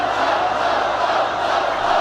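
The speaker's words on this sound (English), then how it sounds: "The crowd thinks it was up." A crowd at a women's college ultimate frisbee semifinal between Carleton and Washington roars in a loud, sustained cheer, a dense wall of voices that does not let up.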